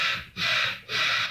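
Outdoor birds, likely crows, give loud harsh calls, two long rasping caws close by with a short gap, no talk.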